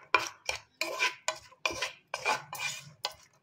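Onions being stirred with salt, chili powder and raw oil for a puffed-rice masala: a run of about eight close, rhythmic scraping and clinking strokes of a spoon against a bowl, with no talk.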